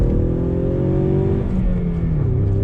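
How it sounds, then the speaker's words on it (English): A 2020 Ford Mustang EcoBoost with a 2.3 liter turbo four-cylinder accelerates in second gear, its engine note loud and close, with a smooth climbing drone that rises steadily in pitch. "let's check out acceleration, second gear."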